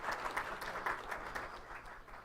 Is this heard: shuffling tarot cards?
no